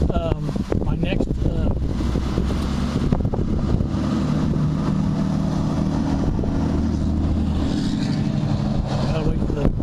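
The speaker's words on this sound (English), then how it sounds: "gotta wait for the noisy vehicles to go by" Noisy vehicles roar past close by in a continuous, loud rumble with gusty wind buffeting, lasting throughout with no clear break.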